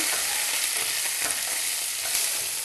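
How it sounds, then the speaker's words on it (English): Vegetables tossed into a hot pan of oil for vegetable pullao sizzle loudly and continuously, with a spoon stirring through them up close and no voices. "The vegetables go in. And I'll give it a quick stir."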